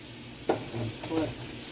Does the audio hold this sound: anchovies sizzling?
yes